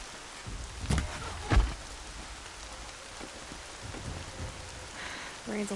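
Rain falls steadily in the game Horizon Zero Dawn, a dense hiss of drops on surfaces with a couple of louder thuds near the start, moderately loud throughout, and faint voices are briefly audible near the end.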